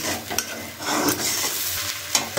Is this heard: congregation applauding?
no